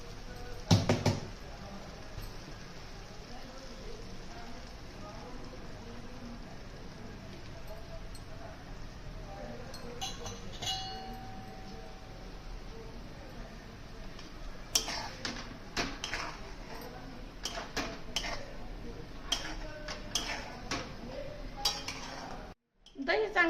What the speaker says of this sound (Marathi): दही चांगलं मिक्स करून घेऊ